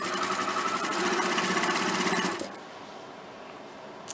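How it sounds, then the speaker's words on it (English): A sewing machine top stitches across the front of a fabric picnic placemat, a steady rapid mechanical whirr running for about two seconds before stopping, leaving quiet room noise. "I'm just top stitching across the front of it."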